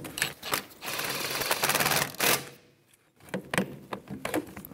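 A hand ratchet with a 17 mm socket snugs up a bolt on the rear parking brake cable of a 2013–2018 Toyota RAV4, giving close, rapid clicking in several short bursts with a brief quiet gap midway.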